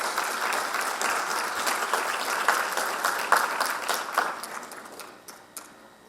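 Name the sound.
audience applause for teachers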